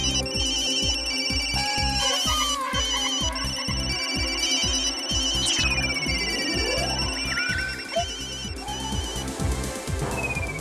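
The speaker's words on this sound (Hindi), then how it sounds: "अभी विकी को फोन लगाती हूँ।" A phone ringtone plays a repeating electronic melody over a steady pulsing ring pattern, clear and continuous, while a call is placed to Vicky.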